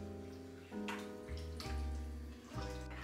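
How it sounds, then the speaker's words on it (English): Water and vegetable stock pour into a pot of soup with a gurgling, splashing stream whose pitch shifts as the level rises, close by and without talk. "I'm going to put water and vegetable stock into the soup"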